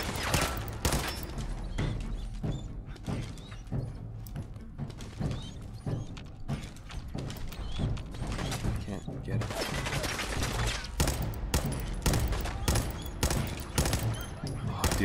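Rifle gunfire in the video game Fallout 4: a continuous dense battle din of repeated sharp shots and mechanical clatter throughout, with someone talking over it.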